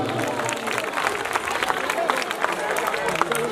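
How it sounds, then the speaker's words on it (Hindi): Children in an audience at a Ramlila performance of Lanka Dahan clapping together in a dense, continuous round of applause, mixed with crowd babble throughout. "बच्चों के लिए एक बार जोरदार तालियां बच्चों के द्वारा।"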